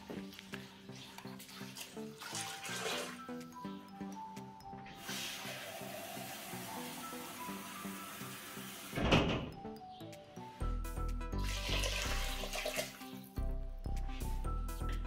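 Water poured into an Instant Pot over a bean soup mixture, about two liters, making a sustained splashing and pouring rush with louder bursts and clattering kitchen noise, close and fairly quiet overall.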